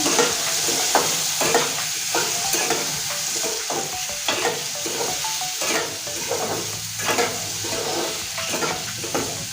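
Potatoes fry in a pan with salt and turmeric while being stirred, with a steady sizzle under repeated scraping strokes of a spoon against the pan at a regular, unhurried rhythm.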